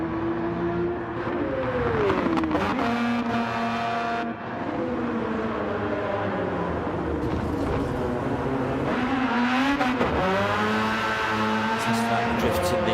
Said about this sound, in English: Testing out the drifts in the Mazda there